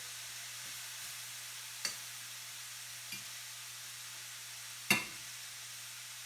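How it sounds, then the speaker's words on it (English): Soft, steady sizzling hiss of broccoli slaw frying in a pan with bone broth, broken by a few faint clinks of a utensil, with no voices. "All right, so that's starting to sizzle."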